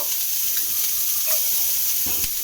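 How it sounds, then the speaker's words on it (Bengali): Chopped medium-sized onion sizzling in hot oil in a pan while being lightly stirred, a loud continuous frying hiss with soft scraping strokes close by. "এবার আমি এর মধ্যে দিয়ে দেব একটা মাঝারি সাইজের পেঁয়াজ কোচানো দিয়ে হালকাভাবে একটু নাড়াচাড়া করব"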